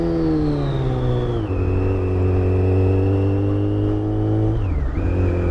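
A Yamaha FZ1 motorcycle engine winds down with the clutch pulled in, its steady harmonic drone loud and close. The tone drops in clear steps before settling lower, then dips briefly again.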